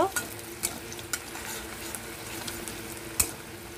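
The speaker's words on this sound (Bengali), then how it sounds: "ভাজা হতে থাকুক।" Ivy gourd (kundru) frying in a pan gives a soft, steady sizzle broken by a few sharp clicks and scrapes of stirring.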